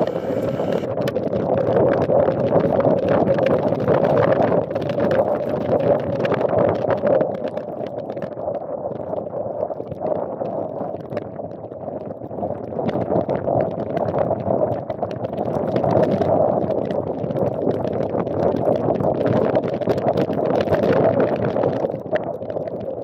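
Small motorboat engine droning steadily under strong, gusting wind buffeting the microphone, a continuous low rumble with wind roar throughout, during a rainy, stormy trip along the Infanta and Real loop.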